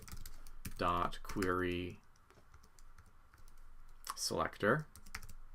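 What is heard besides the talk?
typing on a computer keyboard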